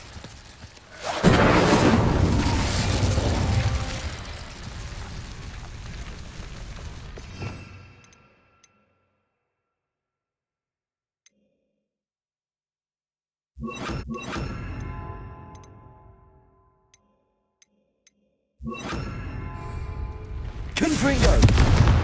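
Incendio fire spells cast in Hogwarts Legacy, a dense burst of roaring, crackling magical flame that fades, then two shorter loud flame bursts after silent gaps, with a voice speaking over parts of it.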